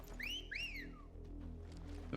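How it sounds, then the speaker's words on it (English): A whistle in Final Fantasy XVI calling the chocobo Ambrosia, two quick rising-falling whistle notes, fairly faint over a low game background. "Why is that the whistle?"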